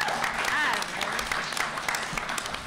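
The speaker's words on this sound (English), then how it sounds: "Please give her a round of applause." An audience at a comics panel breaks into a round of applause, a dense, steady wash of clapping at moderate loudness with a few sharper claps and faint voices underneath.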